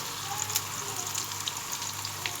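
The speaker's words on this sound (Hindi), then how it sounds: "ऑयल गर्म हो गया है, अब हम इसमें प्याज डाल रहे हैं।" Sliced onions, one and a half pav of fine slices for chicken korma, fry in hot oil with a steady, even sizzle and faint crackles throughout.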